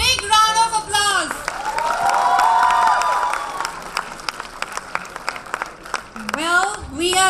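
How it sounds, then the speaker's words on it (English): An audience at a fashion design department's fashion show claps and cheers for the students in a sustained wash of applause, with a voice speaking just before and after. "Let's give all of them a big round of applause."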